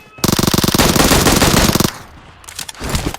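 Rapid automatic gunfire in PUBG Mobile, a loud sustained burst of shots lasting nearly two seconds, then quieter scattered game sounds.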